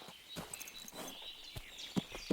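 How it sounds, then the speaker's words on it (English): A horse in the video game Kingdom Come: Deliverance 2 walks with irregular hoof clops near the listener over a steady ambient backdrop, with no talk. "the horse does not like that at all"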